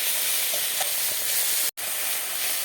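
Spice paste with ginger fries in a pan for a rupchanda fish curry, producing a dense, even sizzle that cuts out briefly before resuming.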